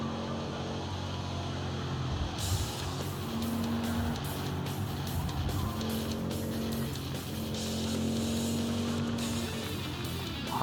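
Cars drive through the VR racing game Downtown Club on Quest 3S, a steady engine hum with tonal revving and whooshes of nearby traffic running throughout.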